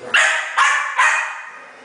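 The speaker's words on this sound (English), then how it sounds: "Oh, get that bad dog." A dog barks three times in quick succession, sharp and fairly close, each bark trailing off briefly before the next.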